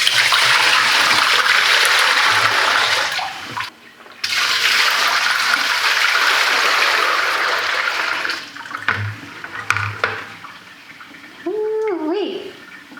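Clean water poured while washing wallpaper, a loud close rushing splash that stops briefly and resumes, tapering into trickles, with a person talking over parts of it.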